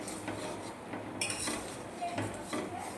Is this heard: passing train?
no